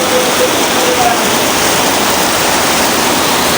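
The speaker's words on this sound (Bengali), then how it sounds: "আর ধুম বৃষ্টিও নামছে" Heavy rain pours down steadily, a dense, loud, continuous hiss close by that never lets up.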